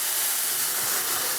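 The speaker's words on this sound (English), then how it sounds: "I'm going to add a little bit of water here and we'll steam it a little bit." Water poured into a hot pan of roasting broccoli sends up a loud, steady steam hiss that fills the whole moment, close and continuous with no talking.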